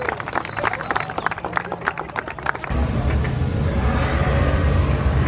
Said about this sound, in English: Big round of applause for Class 2.